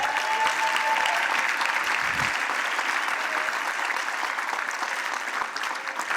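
A conference hall audience at a homelessness awards ceremony gives a warm, steady round of applause for County of San Diego staff, dense clapping sustained for over six seconds at an even level.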